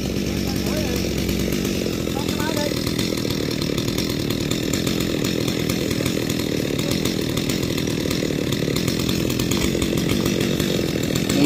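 A chainsaw drones loudly and continuously while cutting a coconut palm trunk, with a person talking over the steady engine noise.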